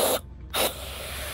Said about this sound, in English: Wait, spray a little more.